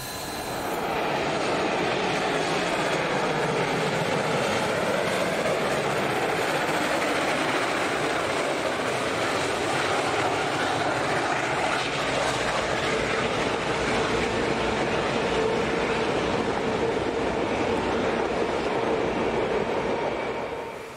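A newly restored steam locomotive, Southern Railway Mikado 4501, runs on the 3-mile main line of the Tennessee Valley Railroad Museum, giving a continuous loud rumble and roar for about twenty seconds with no talking.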